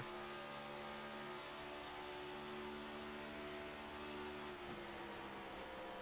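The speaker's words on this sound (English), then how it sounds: "We're going to listen to the engine here." A race car engine during an ARCS A2 Cup Series race, a steady loud roar with shifting harmonic tones that hold and then change pitch around a gear change, with no talk.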